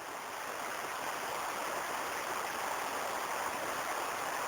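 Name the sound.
Belichka river stream flowing at its mouth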